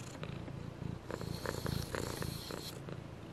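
A cat sitting on someone purrs close and softly in a steady rhythmic rumble with a few brief breathy pulses, with no voices.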